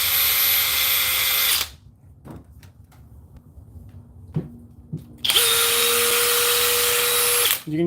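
Cordless Makita XGT drill whirring at high speed with a steady whine, cutting off, then a few light handling clicks and a low hum before it spins up loudly again and runs until near the end.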